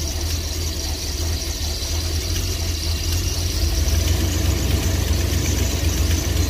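An RV engine that has sat unused since winter runs at idle just after starting, a steady low rumble with a persistent high squeal over it, loud and unbroken, with no talking.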